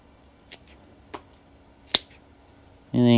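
Scissors snipping back a geranium plant, three short sharp cuts spaced apart in a quiet space, followed by a sudden loud steady sound at the end.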